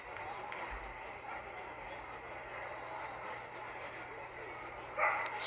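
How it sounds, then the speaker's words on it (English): Dogs bark during a minor-league baseball game on bark in the park night. The barks are faint, scattered and distant under crowd ambience, with one sharper yip near the end. A play-by-play announcer talks throughout. "If you hear what sounds like barking, it is barking. It is bark in the park night."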